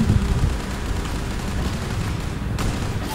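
Rapid FN F2000 rifle fire in the video game CrossFire's Zombie mode, a dense, steady stream of shots that continues without pause throughout.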